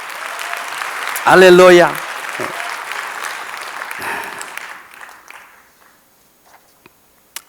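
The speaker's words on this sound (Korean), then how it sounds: "마지막으로 우리 하나님께 영광을 돌려 박수 한번 하시죠." A church congregation applauds together, a loud, even burst of clapping with a voice calling out over it early on, then the applause thins and fades to near silence.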